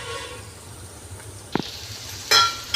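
Pulihora tempering with tamarind frying in a pan, a soft steady sizzle with a couple of brief sharper crackling bursts partway through.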